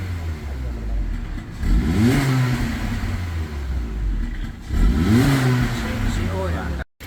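A Honda BR-V engine revs up twice to its roughly 4000 rpm limiter, each rise climbing then holding a loud buzzing drone before dropping back to idle, close up, with talk over it.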